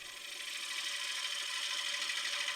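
A spindle gouge shears across the bottom of a very dry live-edge wooden bowl spinning on a lathe, producing a continuous, fairly quiet hissing scrape that holds steady without pause.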